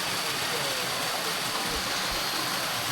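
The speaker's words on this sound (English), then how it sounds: "There's this nice beautiful waterfall here." A waterfall pours with a steady, broad roar that fills the whole stretch, close and constant with no breaks.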